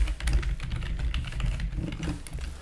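Rapid, uneven clatter of keys on a computer keyboard as Java code is entered, close and continuous with brief pauses, no talking over it.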